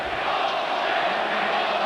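A large home crowd at a Minnesota Vikings NFL game in 1997 roars in a steady, loud, distant wash of disapproving noise, with no break.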